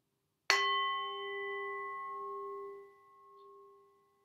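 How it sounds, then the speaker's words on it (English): A singing bowl struck once during a yoga meditation, a clear bright ring that sustains with a steady hum for a few seconds before slowly fading into quiet. "Allow the sound of the singing bowl to gently vibrate all through your being."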